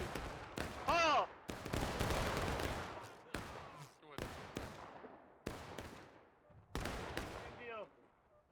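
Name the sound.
volley of musket fire in video game War of Rights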